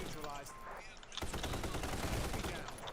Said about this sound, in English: If you plan on using the BAR as the gunner, it's a very nice feeling weapon.